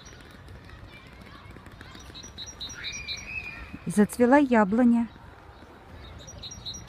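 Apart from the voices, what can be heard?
birds singing in spring park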